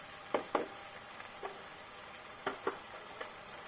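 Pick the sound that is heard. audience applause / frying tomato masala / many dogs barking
frying tomato masala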